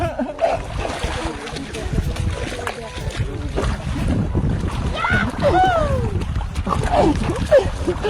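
Water splashing and sloshing as someone bathes in shallow, cold water nearby, with voices chattering and calling out in Filipino over the splashes.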